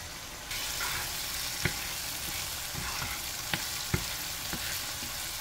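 Scallion sizzles in a hot pan with garlic for Jamaican steamed callaloo, a steady broadband fry hiss after a quiet start, with a few sharp utensil clinks and scrapes scattered through.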